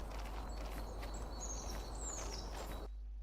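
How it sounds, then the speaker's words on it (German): In the video game The First Tree, birds chirp in short high calls and ravens cry out at intervals over a soft, steady outdoor hush before the sound cuts off abruptly. "Man hört zwar noch die Vögel, aber auch immer wieder diese Raben."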